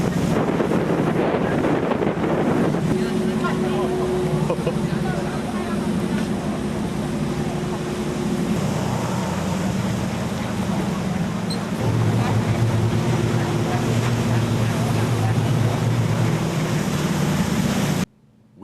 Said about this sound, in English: we got to go on a boat tour out to a place known as Seal Island